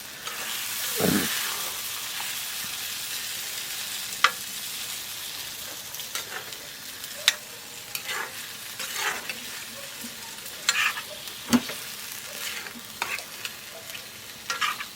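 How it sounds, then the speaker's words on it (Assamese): Chicken fries in masala in a pan with a continuous, moderate sizzle. A spoon stirs it now and then, with sharp scrapes and taps against the pan scattered through the frying. "এনেকৈ অলপ ফ্ৰাই কৰি ল'লে কি হয়, মানে চিকেনটোৰ ভিতৰত পূৰা মানে মছলাটো সোমাই যায়।"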